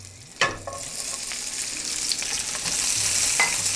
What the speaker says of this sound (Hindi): अब इसके अंदर हम ये प्याज डाल देते हैं।